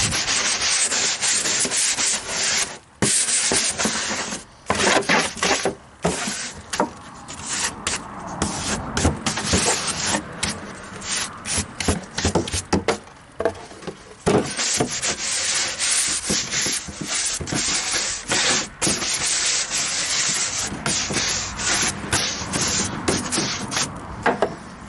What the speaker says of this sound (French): Après grattage, on va venir enlever ce qui reste avec la brosse.